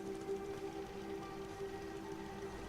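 Rain falls in the Fallout 4 video game as a faint, steady patter on surfaces, with a sustained tonal hum underneath and no voices.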